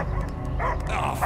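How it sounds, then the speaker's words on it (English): A dog barks and whimpers in the video game Marvel's Guardians of the Galaxy, a few short yips and woofs over a low, steady rumble of game ambience, at moderate volume and fairly close. "I hear only barking."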